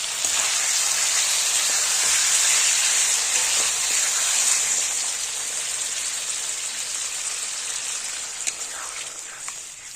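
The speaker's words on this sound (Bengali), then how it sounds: "মশলার সাথে ফুলকপিগুলো সুন্দর করে মিশে গেছে, দিয়ে দেবো পরিমাণ মতো জল।" Water poured into a pan of cauliflower and spices sets off a loud, rushing sizzle and bubbling that slowly settles, with a few clinks near the end.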